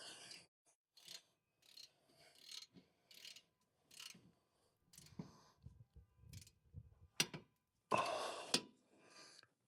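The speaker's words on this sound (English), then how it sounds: "So we have a 17 millimeter that we're going to torque down to 65 foot-pounds" A torque wrench on a 17 mm bolt tightens a Toyota RAV4 rear disc brake mounting bracket to 65 foot-pounds. Quiet, close ratcheting clicks come in short spaced bursts, ending in a louder final burst.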